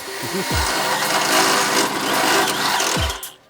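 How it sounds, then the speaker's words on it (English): A power drill whirs steadily for about two and a half seconds, loud and close, drilling holes through a car exhaust with a rough, buzzing, grinding drone. "I'm drilling some holes in it to see if it sounds better"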